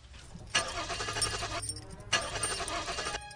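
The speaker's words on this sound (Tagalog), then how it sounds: "Subukan mo kaya uli i-start yung kotse." A car engine in a grassy rural spot cranks twice, each a whirring, chugging attempt of about a second that fails to catch, close by and fairly clear.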